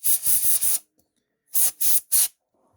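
Canned air sprays in sharp hissing bursts close by in a workshop: a rapid cluster of about four short blasts, a pause, then three more distinct puffs.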